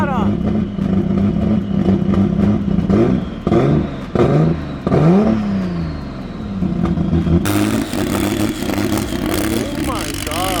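A turbocharged BMW E46 M3 drift car revs loudly and close by in bursts, its engine note rising and falling in sharp throttle blips, with people talking and exclaiming over it throughout.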